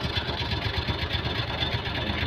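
A Suzuki Multicab's F6A engine idles after a top overhaul, giving a steady, even, close-up running sound that holds at one level throughout.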